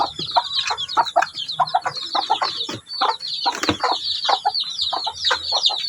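Brahma and native chickens cluck close by in a steady, busy chorus of overlapping clucks and short calls from several birds.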